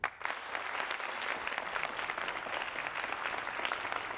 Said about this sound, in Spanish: Y un fuerte aplauso para Sergio Bonilla.